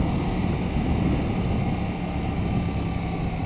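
KTM 790 Duke motorcycle engine held at low revs while riding in the rain, a steady low rumble with wind and road noise running evenly throughout, no talk.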